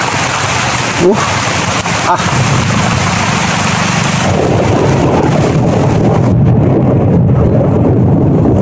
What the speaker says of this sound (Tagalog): Parang lakas ng ulan.